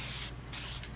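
A spray can dusts coating at an angle onto a rust-hole repair on a budget off-road 4x4, giving two close, steady hissing bursts separated by a short pause.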